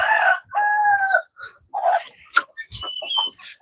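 Chickens at a farm, with a rooster crowing and hens clucking up close in a quick series of loud calls and short clucks, separated by brief silences.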